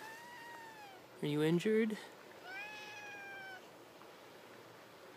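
A very talkative cat meows several times, drawn-out tonal calls near the microphone, with a louder pair of meows in the middle and a person speaking softly between them.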